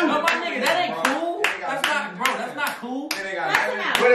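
Hands clap in a quick, uneven string of about nine sharp claps, fairly close and loud, while people talk over them throughout.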